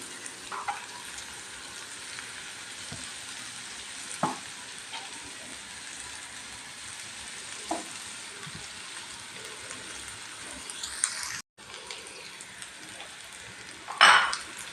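Cauliflower masala sautés in oil until the oil separates: a continuous soft sizzle with light spoon scrapes, a brief break near the end, then a sharp metallic clank.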